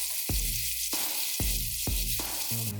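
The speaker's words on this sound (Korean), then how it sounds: "다진 마늘 한 스푼, 그리고 다진 대파를 넣고 볶아줍니다" Minced garlic and chopped green onion sizzle in a generous amount of hot oil in a pan, a loud, steady frying hiss broken by short repeated stirring bursts, close up with no talking.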